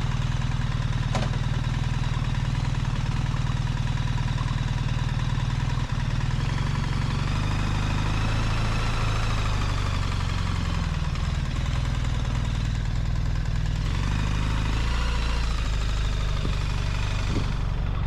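A BMW R1300 GS Adventure motorcycle engine idles with a steady low rumble throughout, close and fairly loud, with a faint clunk partway through that fits the bike being shifted into gear.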